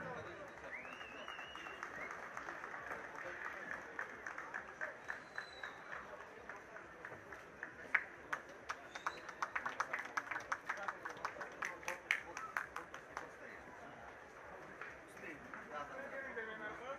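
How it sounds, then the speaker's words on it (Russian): Audience applause at a kickboxing event, a sustained mass of clapping from a crowd that swells to a denser, sharper peak midway and then settles, with a continuous murmur of the hall beneath. "Ваши аплодисменты."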